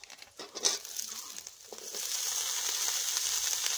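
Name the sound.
chopped vegetables sizzling as added to hot pan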